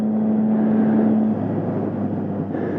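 A Triumph Street Triple 675 motorcycle on its first ride holds a steady exhaust drone with a sustained tone that drops away partway through, then rumbles on more roughly, fairly close and with no voices.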